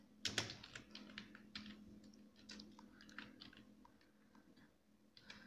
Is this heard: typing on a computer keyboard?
yes